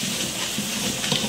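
Chopped tomatoes sauté in a pan for mutton biryani made with seeraga samba rice, giving a steady, soft sizzle and hiss with no one talking.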